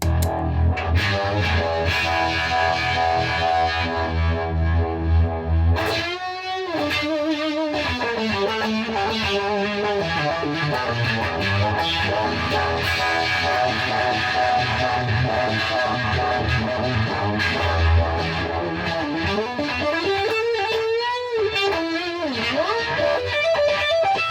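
Heavily effected electric guitar with a warm neck-pickup tone from a Suhr HSS through fuzz and Univibe plays fuzzy, wavering chords and bending lead lines for a long, continuous stretch.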